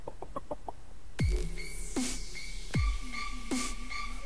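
Chickens cluck and squawk in the pet-care video game Can Your Pet, several sharp clucks and rising squawks spaced through a few seconds, with lighter clicking sounds before them.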